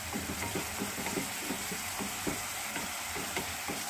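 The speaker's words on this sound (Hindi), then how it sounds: "मिक्स कर रहे हैं अच्छे से हम।" Momo filling with half a spoon of sugar and a small spoon of soy sauce is stirred in a pan, producing a quick rhythmic scraping and clacking of a spoon over a soft sizzle, close and fairly quiet, with no talk.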